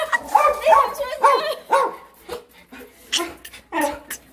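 A pet dog performs a barking trick indoors, letting out a series of short barks and yips in bursts, with people talking around it.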